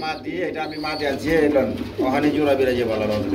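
Soft pigeon cooing at a pigeon farm, including racing pigeons, low and repetitive, mixed with people talking nearby throughout.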